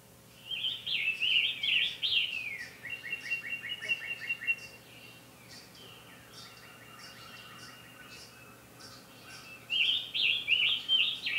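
Birdsong attributed to the scarlet tanager, associated with a Dvořák American Quartet passage: bright repeated chirping phrases and trilled runs, clear and fairly close, in bursts at the start and end with softer trills between.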